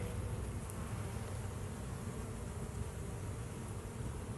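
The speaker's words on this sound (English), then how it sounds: "A lot of young bees on there." Honeybees buzzing during a hive inspection, a steady, dense hum of many bees close by, faint and continuous without breaks or talk.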